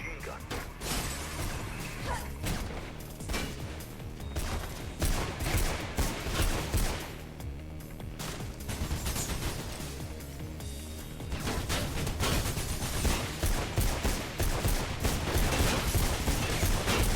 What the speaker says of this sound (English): they have a goddamn machine gun